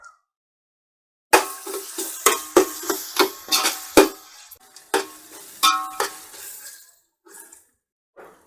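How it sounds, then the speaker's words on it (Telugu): Ginger garlic paste fries with onions in a pan as a spoon stirs it, a quick run of metallic scrapes and clinks over a soft sizzle, then fading to a few light taps. "ఈ అల్లం వెల్లుల్లి పేస్ట్ కూడా చక్కగా పచ్చివాసన పోయేదాకా వేగనివ్వాలన్నమాట"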